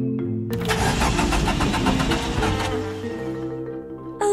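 A cartoon car engine cranks and turns over in a rapid sputtering burst, then dies away without catching because it is out of petrol, leaving a low fading hum before a sharp sound at the end.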